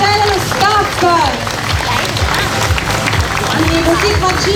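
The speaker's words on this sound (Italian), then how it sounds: "ringraziamo ancora tantissimo con un applauso Valerio Stella e lo staff" Audience at a beauty pageant clapping loudly in a room while music with a thumping beat plays alongside and a voice sings over it throughout.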